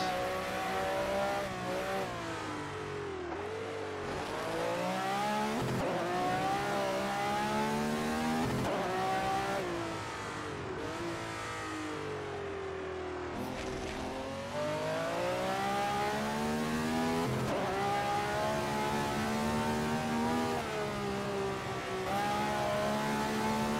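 A 1967 Ferrari 312/67 racing engine revs hard in the Grand Prix Legends game on the Nordschleife, a loud continuous wail that rises and falls through repeated gear changes.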